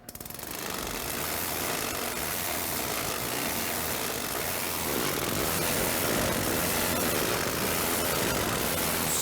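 Engine idling with a steady, loud, broadband drone that holds throughout, growing slightly louder partway through, with no talk over it.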